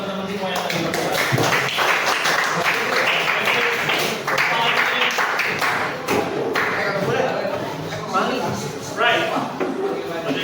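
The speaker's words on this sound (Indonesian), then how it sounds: "Tepuk tangan buat teman-teman semua yang tadi bergerak." A class of students applauds their classmates, a busy patter of clapping from many hands that runs throughout, with voices talking over it.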